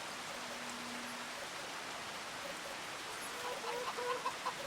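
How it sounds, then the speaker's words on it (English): Chickens cluck in a farm shed in the video game Farming Simulator 25, soft and somewhat distant under a faint hiss of background noise, with the clucking growing busier near the end. "We got our chickens over here that are getting very low on feed with quite a few eggs."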